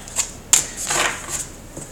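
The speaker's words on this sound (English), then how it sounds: "let's go ahead and shuffle and get a romance angels card for you guys" A deck of angel oracle cards is shuffled in a brief, crisp burst of riffling and flicking. It is close and brief, with no talk.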